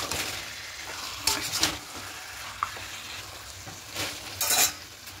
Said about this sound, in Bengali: ঢাকা না দিয়ে একটু সামান্য কষিয়ে নেব।